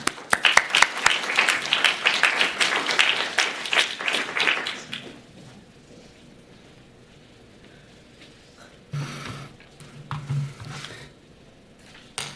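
Audience applause welcoming Dr. Joe Gone to a talk on mental health services for American Indian communities: dense, loud clapping for about five seconds, then quickly fading to near silence with a few faint rustles and bumps.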